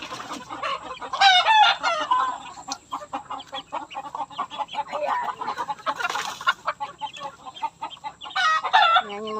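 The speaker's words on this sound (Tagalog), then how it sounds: "Ayan yung mga alaga naming manok." Pet chickens in a rural backyard coop cluck and squawk steadily, with a rooster's crow rising at intervals, close and lively throughout.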